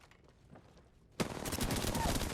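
Rapid automatic gunfire in the video game Apex Legends bursts in suddenly after a quiet stretch and continues loud and dense to the end of the clip.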